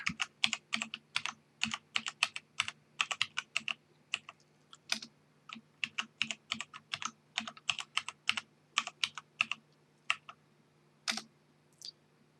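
A password being typed on a computer keyboard during an Arch Linux install: a long run of crisp, close key clicks in quick bursts with short pauses, quiet and alone over a faint hum.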